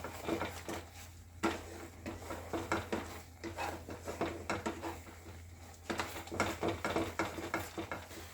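Raw mango chutney syrup is stirred in a pot, with a spoon patting and scraping in an irregular rhythm of soft, close taps and clinks, fairly quiet, with no voices.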